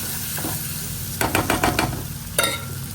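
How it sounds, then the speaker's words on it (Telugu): Chicken stirred in a kadai with onions, turmeric and ginger-garlic paste: a steady close sizzle runs throughout, broken by a quick cluster of loud scraping stirs in the middle and one more scrape near the end. "చికెన్ అయితే కడాయిలో వేసేసాను ఇప్పుడు ఒకసారి మిక్స్ చేసుకున్నాము"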